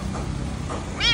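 A rescued stray cat lets out a single short meow near the end, rising clearly above a steady low background hiss.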